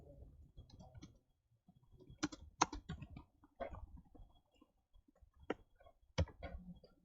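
Sparse clicking of computer keys while Python code is typed, close and quiet, with irregular taps and a few sharper keystrokes spread across the stretch.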